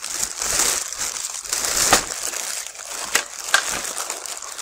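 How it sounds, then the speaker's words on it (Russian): Close, dry crinkling and crackling of small plastic bags holding parts of an Eclipson model aircraft kit, handled in irregular bursts in a workshop with no talk. "Что интересно, каждая деталь упакована в отдельный пакетик."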